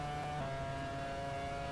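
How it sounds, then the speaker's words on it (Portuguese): F1 car in a racing video game accelerating at full throttle, a continuous buzzing engine drone with steady tonal harmonics, moderately loud and heard without talk. "Agora, meu amigo, acelerar com tudo"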